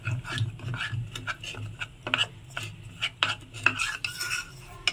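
A spoon stirs custard powder into raw milk in a bowl, giving steady close scraping and clinking strokes with sharper taps against the side, at moderate loudness and with no talk over them.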